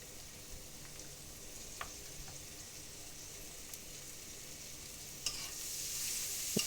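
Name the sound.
chopped onion and oyster mushrooms stir-frying in pan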